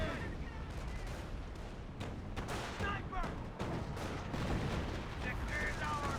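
Blasts and crackling gunfire in Company of Heroes as an M2 mortar round lands directly on an MG42 position, a dense continuous battle din with a commentator talking over it.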